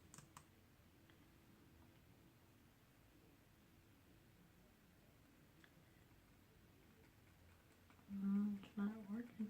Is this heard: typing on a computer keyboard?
yes